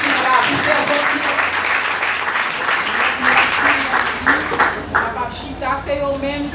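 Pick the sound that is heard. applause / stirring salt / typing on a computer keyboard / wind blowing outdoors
applause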